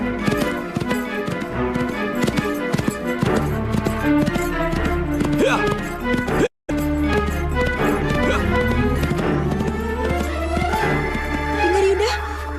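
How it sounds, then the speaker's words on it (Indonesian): Horse hooves clatter in a rapid, continuous rhythm, mixed with dramatic music and voices in a legend drama about the search for a giant scorpion. The sound stays loud and dense, with one short gap of silence. "Derap kaki kuda."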